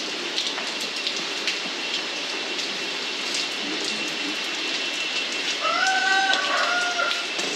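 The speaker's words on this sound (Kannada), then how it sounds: "ಸಿಕ್ಕಾಪಟ್ಟೆ ಮಳೆ ನಮಗೀಗ." Heavy monsoon rain in Agumbe, a steady, dense broadband hiss of downpour pouring without pause, with a brief faint tonal call or whistle rising over it near the end; no talking.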